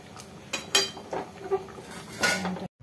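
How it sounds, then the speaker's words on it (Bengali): A kadai pot of dal is set aside and another kadai placed on a gas stove, heard as scattered metallic clanks and scrapes of pot and utensils, irregular and fairly close, with no talking. "ডাল সমেত কড়াটাকে সাইডে রেখে দিয়ে আমি আরেকটা কড়া গ্যাসের মধ্যে বসিয়ে দিলাম"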